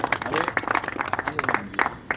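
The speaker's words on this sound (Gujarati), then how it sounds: "આપણે એને તાળીઓથી વધાવીએ." An audience claps at a 90th birthday celebration, a short burst of uneven applause with a voice talking over it.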